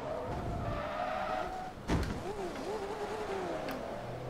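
A car in the Forza Motorsport 2 racing game slams into another car with a single sharp impact partway through, surrounded by a continuous engine drone and sliding tire squeal, with a voice talking underneath.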